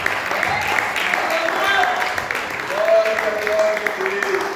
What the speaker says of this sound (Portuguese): Adore ao Senhor com uma salva de palmas.